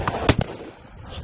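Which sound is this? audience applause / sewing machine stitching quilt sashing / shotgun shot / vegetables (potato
shotgun shot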